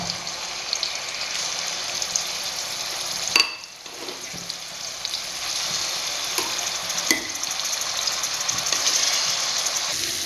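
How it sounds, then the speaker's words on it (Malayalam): Steady, dense sizzling of fish frying in hot coconut oil fills the clip, close and continuous, with a brief dip near the start and occasional small clatters. "അപ്പോൾ മീൻ അവിടെ വറുത്തുകൊണ്ടിരിക്കുകയാണ്."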